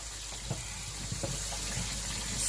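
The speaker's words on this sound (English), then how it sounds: "I just need to empty out this basin real quick so I can wash it" Water being poured and emptied out of a basin, a steady close splashing and trickling that runs alone without voices.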